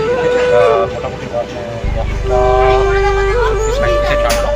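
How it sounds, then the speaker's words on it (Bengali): Train pulling out of Howrah station, a deep low engine rumble that kicks in partway through under horn tones and station noise, with people talking nearby. "আমাদের ট্রেন ছেড়ে দিয়েছে মোটামুটি"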